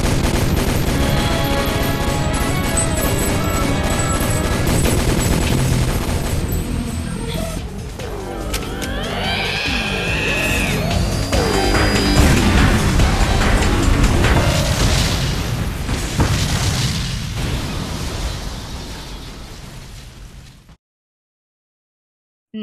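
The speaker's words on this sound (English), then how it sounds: "The first one made by Walter was pretty much a portable cannon only Ceres could use." The anime Hard Cannon, a portable cannon, fires amid dense, loud booming blasts and rumbling battle noise with dramatic music that builds for about twenty seconds before cutting to silence.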